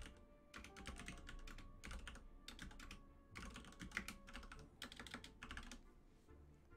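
Rapid bursts of keyboard typing clack on a computer keyboard during an online word game, fast runs of keystrokes broken by short pauses, fairly quiet and close.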